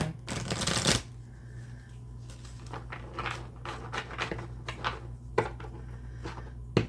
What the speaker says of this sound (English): I'm going to shuffle these the same way, but these cards are even bigger